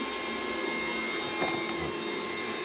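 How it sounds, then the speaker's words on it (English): 3D printer working on a part: a steady whirring, humming drone from fans and motors, with faint brief clicks and shifts as the head moves, heard close with no talk. "Continuing on, just doing a little printing."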